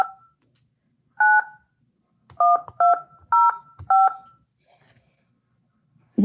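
Touch-tone telephone keypad dialing a phone number, a string of crisp two-tone beeps in an uneven sequence with short gaps between them, clear and alone.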